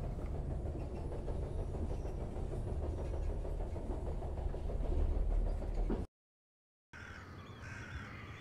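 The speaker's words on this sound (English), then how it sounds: "The train's stopping." A train rumbles steadily along with a dense, rattling roar, then cuts out abruptly and resumes as a quieter ambience, set in the horror adventure game The Charnel House Trilogy.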